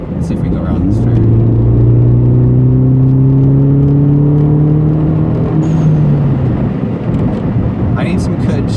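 R56 Mini Cooper S on MaXpeedingRods coilovers driving through a turn, a steady engine drone with a gear shift and rising revs over road and cabin rumble, recorded from inside the car.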